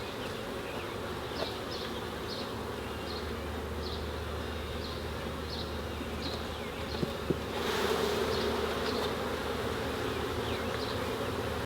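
Honey bees hum steadily around an urban backyard hive, a dense, continuous buzz with individual bees zipping past at close range, no voices present.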